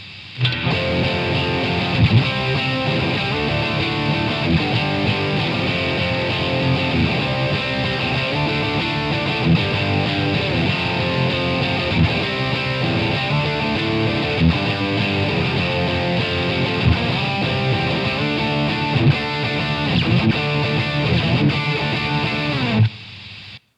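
Electric guitar played through a Boss DS1 distortion pedal with its tone rolled back, a dense continuous wall of distorted chords sustained at steady loudness for over twenty seconds before stopping abruptly, with no voices.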